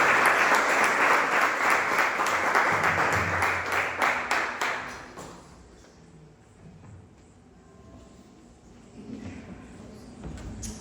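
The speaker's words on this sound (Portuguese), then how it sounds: "Pode aplaudir o Senhor por essa mensagem em nome de Jesus." A church congregation at a Portuguese-language service applauds, a dense burst of clapping for about five seconds that then fades away into quiet room tone.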